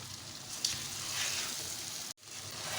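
Unsalted butter frying in a pan for Lahori murgh cholay, a soft, even sizzle close by, with a brief dropout near the end before the sizzle returns.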